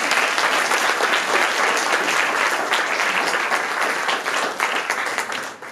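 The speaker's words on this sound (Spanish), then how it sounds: "Fuerte el aplauso." Wedding guests break into loud, sustained applause right after the vows, a dense wash of many hands clapping that holds steady and then fades out at the end.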